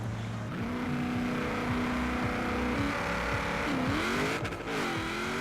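Car in Forza Horizon 4 revving its engine during a launch, a loud sustained tone that climbs and falls through gear changes, running steadily for several seconds without talk.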